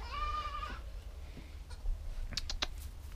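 Goats bleat at milking time in a goat barn, a loud wavering cry up front followed by quieter clatter and scattered sharp knocks.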